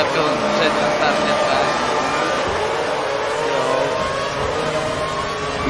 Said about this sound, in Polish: Silnik Mercedesa nie domaga